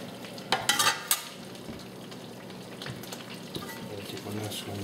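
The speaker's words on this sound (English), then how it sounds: "Get the sizzling up." Butter and grease sizzle in a frying pan at about medium heat, a steady crackling fry broken by a few louder utensil clinks and stirring bursts near the start.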